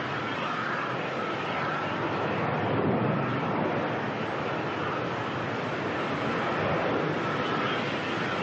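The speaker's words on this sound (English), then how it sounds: "Qantas 604 now heading on out." Qantas airliner bound for Brisbane departing Melbourne Airport, heard as a steady broadband jet roar that holds loud and constant throughout, with no talk over it.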